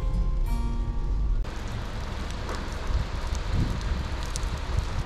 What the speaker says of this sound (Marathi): अचानक वातावरण बदलला आणि जोराचा पाऊस सुरू झाला